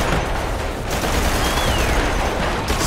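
Dense, continuous gunfire from the dinosaur shooter Primal Carnage: Extinction, a loud steady barrage of overlapping shots filling the whole stretch with no clear gaps.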